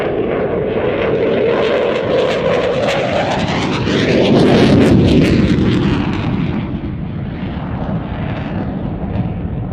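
An aerobatic jet lighting its afterburners at an air display: a loud, continuous roar that swells to a peak midway as it passes, then eases off slightly while still thundering.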